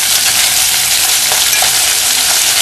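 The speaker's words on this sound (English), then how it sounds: "So you just let the season fry for a little while." Seasoning frying in a hot pan while breadfruit is prepared, a steady, close, loud sizzle with no voices.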